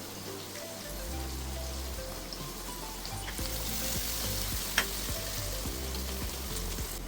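Onion and green chillies frying in a pan, a steady hissing sizzle close by with one sharp clink partway through, over a low hum, with no voices.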